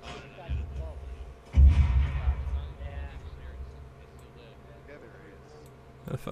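Gunfire in a video game: one heavy, booming shot lands early and rolls off into a low rumble, with quieter crackling and a low background drone before and after, plus another sharp crack right at the end.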